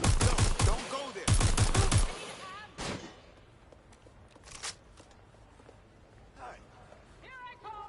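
Gunfire in Watch Dogs: Legion: two sharp bursts of rapid shots up front, followed by a few scattered single reports and fainter movement sounds, with speech in between.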